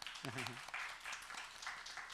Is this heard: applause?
yes